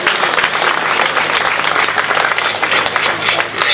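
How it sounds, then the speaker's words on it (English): Steady, loud applause from a crowd at a county fair 4-H swine show fills the whole stretch, a dense wash of many hands clapping without a break. "let's give our judge a nice round of applause before he selects our champion"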